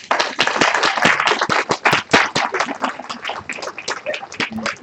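Audience at an It Works training event clapping for new members standing up, a dense, close burst of individual hand claps that swells and stays loud for several seconds.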